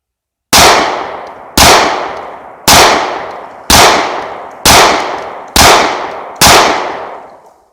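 Seven loud rifle gunshots at an outdoor shooting range, each a sharp close crack with a short echoing tail, fired at a steady pace about a second apart, with no talking between them.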